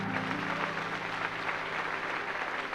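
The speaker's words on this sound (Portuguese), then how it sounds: "Se você puder, dê um aplauso ao Senhor Jesus nessa noite." A church audience claps together at an evening service, a fairly soft, steady wash of applause lasting a few seconds with a faint low hum beneath it.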